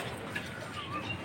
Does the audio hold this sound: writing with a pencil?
no